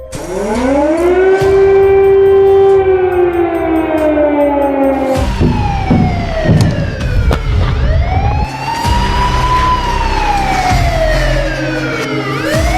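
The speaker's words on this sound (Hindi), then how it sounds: "यूक्रेन की राजधानी कीव में सायरन बजने लगे।" Loud air raid sirens wail continuously over Kyiv during the Russian attack on Ukraine, rising and falling in long overlapping sweeps across the city.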